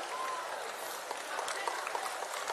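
Audience applause at a college prize ceremony, a dense, sustained clapping from a large crowd that continues throughout, with a faint voice underneath.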